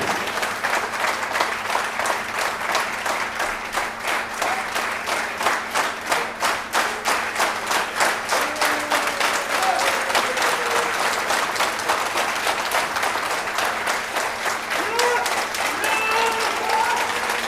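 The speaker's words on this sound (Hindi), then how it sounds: "और एक बार जोरदार ताली, तैयारी वाली, एक्साइटमेंट वाली और उत्साह वाली तैयारी।" An audience at a motivational seminar claps loudly and rhythmically in unison, a dense, sustained round of applause that keeps a steady beat for over fifteen seconds.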